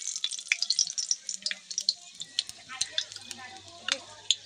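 A bay leaf and dried chillies sizzle in hot oil, giving sharp, close crackles and pops in quick irregular bursts over a steady frying hiss, with no voices.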